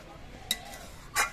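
A spoon stirs paneer curry in a pan just uncovered after simmering, making two short scraping clinks over a faint low simmer, close and fairly quiet.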